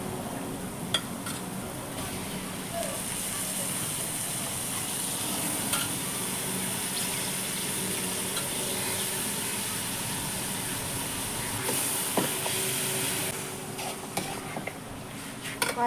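Chicken curry masala frying in oil in a village kitchen, a steady soft sizzle that holds across the whole stretch with occasional faint clinks of a pan.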